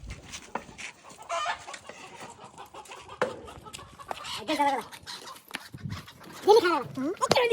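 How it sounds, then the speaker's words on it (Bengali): A hen clucks in a village setting, intermittent soft clucks and a few louder squawks heard under ongoing conversation, with a dog sound mixed in faintly. "আমি তো বলছি মুরগি কক কক করে"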